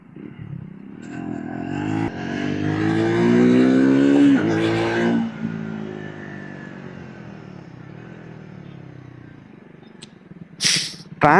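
A Triumph Tracker 400 motorcycle engine under way, its smooth tone rising steadily through the revs, then easing off into a lower steady drone, with wind rush bursting in near the end.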